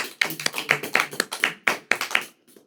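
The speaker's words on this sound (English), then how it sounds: "Please give him an applause." A small audience at a Bhakti Night spiritual gathering claps in a slow, sparse, evenly spaced rhythm, each clap sharp and distinct, before trailing off.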